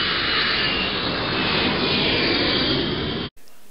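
Steady loud drone of a student-built airplane's engine, a continuous close roar holding for over three seconds before cutting off abruptly, with only faint background afterward.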